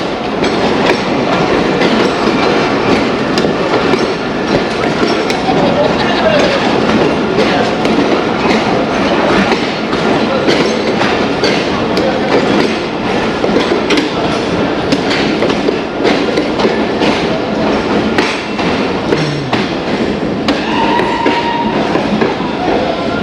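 The Shalimar Express passenger train passes close by, loud and continuous, with clickety-clack wheel rhythm and rumbling carriages throughout, and a faint squeal now and then.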